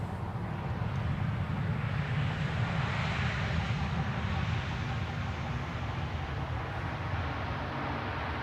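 An Embraer E2 195 airliner at a wintry Amsterdam Schiphol Airport gives a steady, broad jet roar that holds at an even, moderate level throughout, with no voices.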